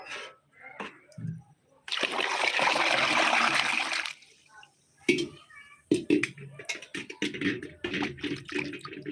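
One-day fermented water is poured into plain water as a plant fertilizer mix, with a loud continuous splashing pour lasting a couple of seconds, followed by smaller clinks and trickles, with a voice talking between.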